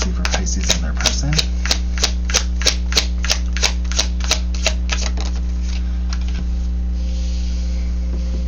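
Tarot cards being shuffled, a run of crisp, evenly spaced riffling snaps over a constant electrical hum, then the rhythm slows and fades into quieter shuffling.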